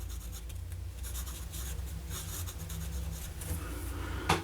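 A fine-nib fountain pen filled with Lamy Prussian blue ink scratches steadily across paper, a soft continuous rasp with faint stroke-by-stroke rhythm, close and quiet, ending in a small tap.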